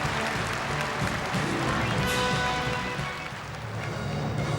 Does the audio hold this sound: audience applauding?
yes